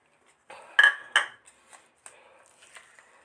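Homemade peanut butter made from a cup of peanuts is spooned out into a bowl, with a few sharp metal clinks and scrapes of a spoon against the dish, fairly close and otherwise quiet.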